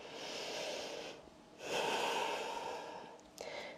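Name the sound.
breathing during a yoga session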